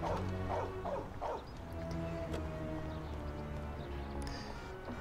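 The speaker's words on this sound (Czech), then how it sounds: "Je hezký pejsek." Dog barking in the Mafia video game, a few sharp barks early on over steady game ambience and engine-like hum, with other in-game sounds continuing afterward.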